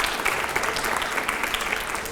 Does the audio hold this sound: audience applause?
yes